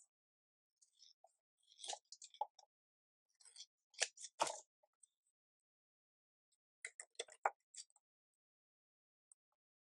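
Scissors snipping laminated paper scraps, heard as quiet, crisp cuts in short irregular clusters separated by silence, with no talking.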